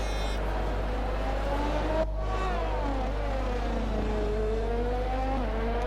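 Screaming Formula 1 engines in the F1 20 racing game at the Mexican Grand Prix, a close car revving and shifting with a sharp gear change partway through, loud and sustained without voices.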